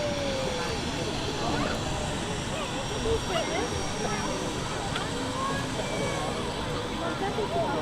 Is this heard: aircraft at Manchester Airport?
yes